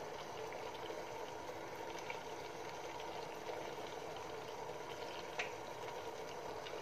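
Water boils steadily in a pot set up for steaming leche flan, a constant bubbling, hissing wash at moderate level with a few brief pops, no voices over it.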